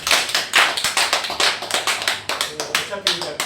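An audience at a lecture on life stages claps in quick, rhythmic bursts, the sharp hand-claps fairly close and filling the whole short moment.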